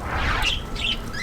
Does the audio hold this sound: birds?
yes